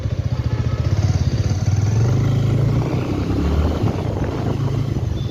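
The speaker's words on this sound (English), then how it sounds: "Let's start the bike and let's do a ride review." A Bajaj Avenger Street 220 motorcycle engine thrums close by while riding, a loud, continuous low pulsing drone with throbbing exhaust beats and steady wind noise, no voices over it.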